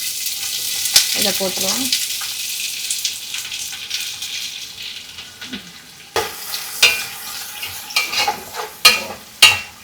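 Chicken frying in hot oil for Madurai-style chicken biryani: a steady sizzle with a brief voice early on, then louder scraping and clattering stirring strokes toward the end.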